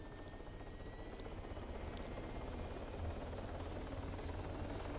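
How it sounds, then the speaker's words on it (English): A police helicopter in the military video game Arma 3 gives a steady, continuous rotor thump and engine drone that stays loud and close throughout, with no talk over it. "this is a police chopper"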